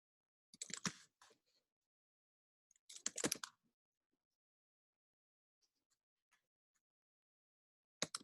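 Keyboard typing in Microsoft Word while writing screenplay action lines: two short bursts of quiet clicking keystrokes near the start, then scattered faint isolated taps and a final brief burst, with silence between.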